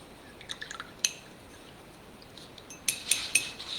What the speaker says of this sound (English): So I'm going to wash my brush again